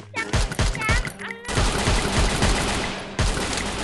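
Gunfire in the mobile battle royale game Free Fire: loud, rapid bursts of automatic shots with a short pause between volleys, while players talk over the shooting.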